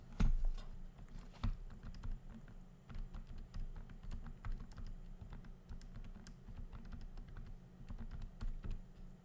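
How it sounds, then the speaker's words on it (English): Numbers typed on a computer keyboard to add up machine failure hours, as a steady run of close, quiet keystrokes over a low hum. "Hopefully I typed all those right."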